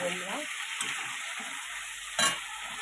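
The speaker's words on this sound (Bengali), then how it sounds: "দেখো কষানো প্রায় হয়েছে আর যেহেতু সবই ভাজা ছিল বেশিক্ষণ কষাতে হবে না" Muri ghonto sautéed in a pan gives a steady, close hiss of sizzling throughout, with a few soft stirring scrapes and one brief louder clatter near the end.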